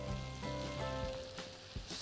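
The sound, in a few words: zucchini frying with cherry tomatoes in pan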